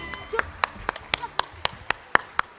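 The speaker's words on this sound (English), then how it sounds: "please welcome with a huge round of applause" Hands clap in a slow, steady beat, about ten sharp separate claps, fairly close, welcoming a children's group on stage at a school annual fest.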